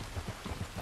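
Rain falling in the video game Red Dead Redemption 2: a steady, close hiss of dense drops with soft patters, continuous for a short moment with no talk.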